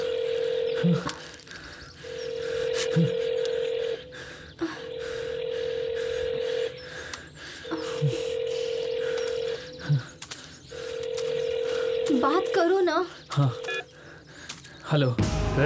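A telephone in a forest gives repeated electronic ring tones in regular bursts, each about a second long, followed by warbling tones near the end, with a voice speaking between them.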